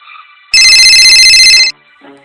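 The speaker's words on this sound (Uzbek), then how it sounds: "Telefonimga qo'ng'iroq keldi." An incoming call rings on a mobile phone in one loud, steady electronic burst lasting about a second, set against quiet eerie background music in a horror audio story.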